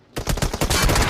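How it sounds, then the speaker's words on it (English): Rapid automatic fire from a SCAR rifle in PUBG Mobile during a PMSL Americas esports match, a loud close burst of evenly spaced shots that blurs into continuous fire after a short silence. "Milo's trying to take some shots with the Scar."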